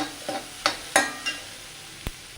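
Garlic, curry leaves and onion frying in a pan for a white chickpea roast, with a soft sizzle underneath several sharp scraping knocks of a spoon stirring against the pan, spaced irregularly.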